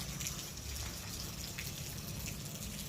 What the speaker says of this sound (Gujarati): પછી બહાર જઈને જોયું તો વરસાદ આવતો જ હતો